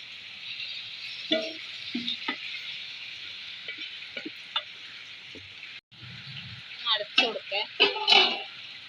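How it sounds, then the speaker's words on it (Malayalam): Water is poured into chicken masala frying in a pan, setting off bursts of sizzling and spattering amid stirring, with a person talking throughout. "കുറച്ച് വെള്ളം ഒഴിച്ചു കൊടുക്കാം"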